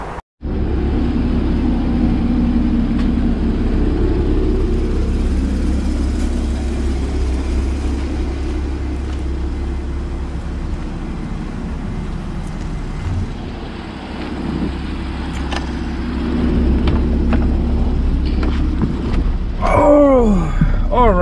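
A Porsche Cayman 981, with faulty radiator fans, runs with a steady, loud engine drone close by, briefly cut at the start and swelling near the end.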